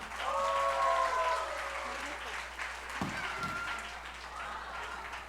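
Audience applause at an Ugadi festival stage event: a steady, full crowd of clapping that swells early and holds for several seconds, with a short burst of low thumps partway through.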